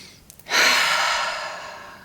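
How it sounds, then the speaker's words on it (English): A single long, deep breath taken close up: a sudden rush of air that swells quickly, then fades slowly over about a second and a half, with no talking. "Take a deep breath"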